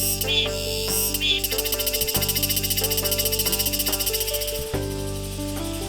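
Summer cicadas in the Jecheon mountains, a loud, continuous buzzing with a fast pulsing rhythm that briefly drops out twice, layered over steady tonal music.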